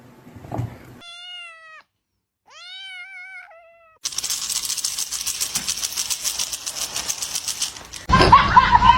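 A cat gives two clear, drawn-out meows close to the microphone, followed by a stretch of buzzing noise and then a louder, harsher burst at the end.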